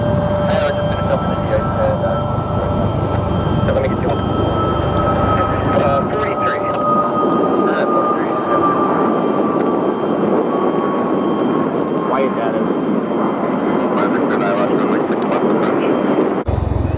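A United Airlines jet airliner, diverted inbound from Denver, passes overhead with a loud, continuous broadband roar and a high engine whine that holds steady before cutting off at the end.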